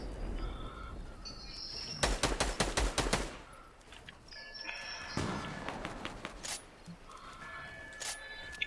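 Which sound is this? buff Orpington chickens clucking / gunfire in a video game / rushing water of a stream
gunfire in a video game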